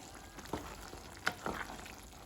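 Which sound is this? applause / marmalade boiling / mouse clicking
marmalade boiling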